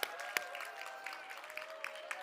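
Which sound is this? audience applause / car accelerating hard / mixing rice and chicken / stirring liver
audience applause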